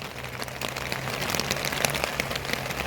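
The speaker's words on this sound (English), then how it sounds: "So hearing heavy rain like this and seeing what looks like the roof getting wet already," Heavy rain drums on a roof in Torrevieja, Spain, a dense, steady hiss of drops that builds slightly and keeps going throughout, close and fairly loud, with no talk.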